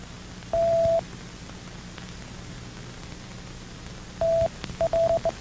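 Morse code tones for a military decoder, read from magnetic tape, sound as a single steady tone: one long dash, a long gap of hiss and static, then a dash and quick dots.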